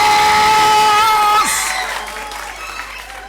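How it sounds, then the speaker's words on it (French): An audience claps and cheers to welcome the students of lycée Nguer la Renaissance at a school quiz contest, with whoops rising over a loud, dense crowd before the applause gradually thins. "On applaudit très très fort."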